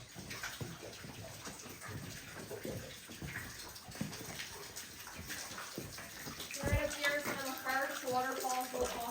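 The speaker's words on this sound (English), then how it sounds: "There's another waterfall right over here behind me." A spring-fed waterfall inside Alabaster Caverns, heard as a steady wash of splashing, rushing water filling a rocky cave space, moderately faint beneath a person talking and echoing voices nearby.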